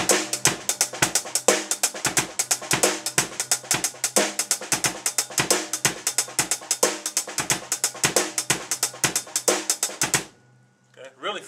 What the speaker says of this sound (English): But when you put the ghost note in the middle note of the triplet, it sounds like this.